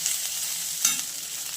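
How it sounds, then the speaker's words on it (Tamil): Garlic and onions sauté in a pan for a masala, giving a steady, close sizzle and a brief scrape of stirring partway through, with no one talking. "வெங்காயம் எல்லாம் மொத்தமாக போட்டு வணக்கணும்."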